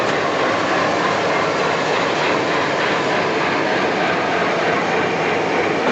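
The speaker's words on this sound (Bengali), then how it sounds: "ট্রেন সিগন্যাল দিয়ে দিল, ট্রেন স্টার্ট দিল" The 15661 Ranchi Kamakhya Express pulls out of Malda Town station with a loud, steady roar of rolling stock and engine, unbroken and even for the whole stretch.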